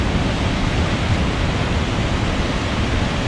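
Cane Creek Falls in Fall Creek Falls State Park, Tennessee, pours in a steady, dense roar of falling water, close and loud with no letup.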